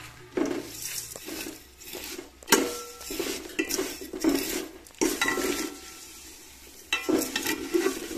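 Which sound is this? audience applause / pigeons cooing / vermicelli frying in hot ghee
vermicelli frying in hot ghee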